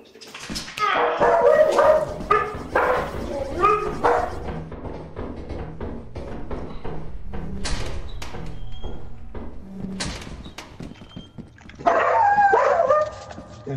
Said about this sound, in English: I like how your dogs echo in the distance.